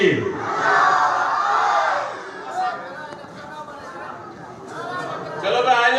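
Crowd at a mosque jalsa roaring a chanted response to a Nara-e-Takbir slogan, loud massed voices swelling at the start, then fading into scattered chatter before another rise at the end.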